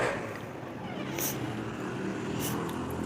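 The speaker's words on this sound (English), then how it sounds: "I don't know if you guys can hear the street noise, but it's kind of loud. There's always motorcycles and stuff." Loud street traffic with motorcycles outside a room: a steady, muffled engine rumble with brief sharper hisses as vehicles pass.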